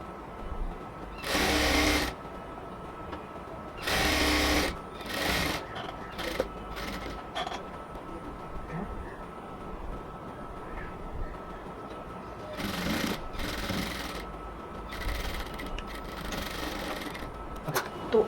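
A sewing machine stitches the side seam of a cotton dress in several bursts of steady mechanical whirring, loud and close, separated by short pauses with quieter room noise between runs.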